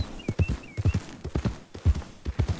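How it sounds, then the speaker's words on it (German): Horse galloping through a river in the video game Red Dead Redemption 2, its hooves striking in a steady repeating clip-clop rhythm, close and clear, with no talk over it. "Vorher können wir einmal durch den Fluss galoppeln, damit das Pferdchen sauber ist."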